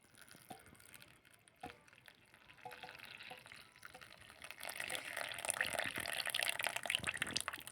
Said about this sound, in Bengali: এবার এই জলটা একটু ছেঁকে নেব বাটিটাতে